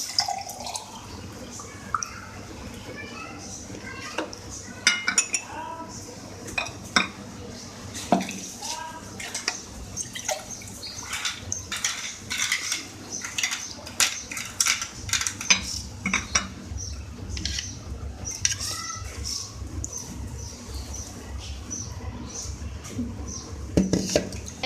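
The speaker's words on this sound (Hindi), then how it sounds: "इसमें हम ऐड कर रहे हैं बर्फ़ के क्यूब्स" Ice cubes clink and rattle into glasses of phalsa sharbat, a series of sharp, bright glassy knocks and tinkles scattered irregularly over a low background, with a faint voice now and then.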